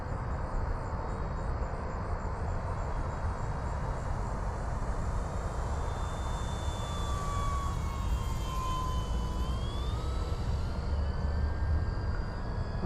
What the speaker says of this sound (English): I'm gonna come by, do a low flow flyby.